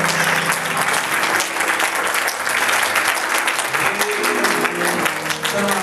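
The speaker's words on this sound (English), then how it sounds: "a hand clap." Church congregation applauding throughout a worship service, a dense, steady wash of many hands clapping at close range with a faint low hum of music or organ underneath.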